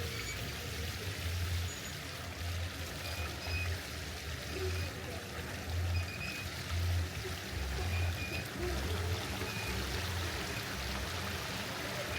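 Irrigation water rushes and gurgles steadily at night, a continuous flowing wash with low rumbling pulses, fairly faint and without voices.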